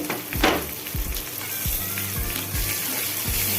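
Curry leaves and onion hit hot oil in a tapioca curry pan, crackling into a dense, close sizzle, with a spoon knocking and stirring at a regular beat throughout.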